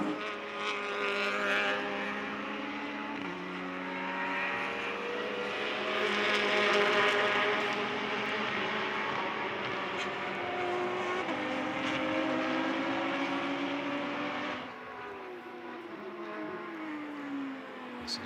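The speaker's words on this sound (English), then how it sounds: "this big bunch of cars coming at you" Prototype race cars at the SCCA Runoffs scream past on a big four-mile road course, a loud pack of engines with shifting pitch and gear changes, sustained and close throughout, with no talking.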